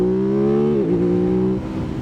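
An Aprilia RS 660 motorcycle engine holds a steady buzzing tone in first gear through a hairpin, then dips in pitch as revs drop and fall away, close and loud, no talk.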